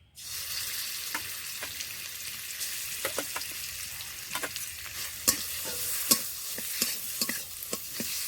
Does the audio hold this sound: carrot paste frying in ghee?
yes